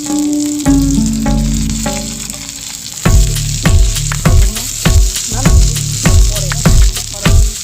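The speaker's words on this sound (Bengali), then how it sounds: "সাদা তেল দিয়ে তার মধ্যে সবজিগুলোকে হালকা করে ভেজে নেব" Mixed vegetables for egg roll filling fry in white oil in a pan, giving a loud, steady sizzle; partway through, rhythmic scraping stirs begin and repeat about every half second.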